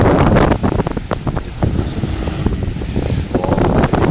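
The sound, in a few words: wind blowing at a wild beach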